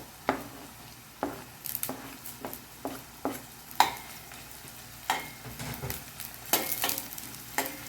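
Green chilies frying in oil with garlic in a pan for a Telugu spinach and tomato curry, with a soft sizzle and a dozen or so sharp spoon clicks and scrapes at an uneven rhythm, close by, with no talking.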